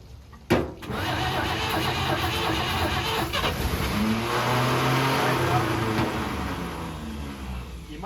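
A 1953 Chevy 3100 pickup engine, dormant for over 40 years, grinds on its starter in a steady, loud churning run that continues for several seconds after a sharp initial click, with voices in the background.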